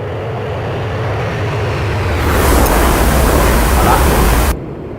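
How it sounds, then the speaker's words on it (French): A Mirage 2000C in a flight simulator game opens its airbrakes. The steady roar of jet and wind swells louder and rougher partway through, holds, then drops off abruptly. "J'ouvre, t'entends? Ça c'est les aérofreins."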